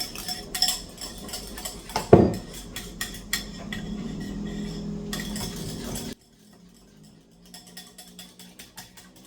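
Metal whisk beating a smooth mixture in a bowl, with rapid clinking scrapes for about six seconds, one louder clank near the start, then quieter scattered taps.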